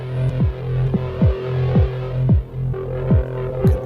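A Roland MC-707 groovebox plays a synth tone through a chorus effect, a loud throbbing hum with repeating downward-sweeping pulses roughly every half second, heard alone.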